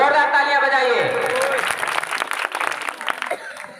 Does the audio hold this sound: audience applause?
yes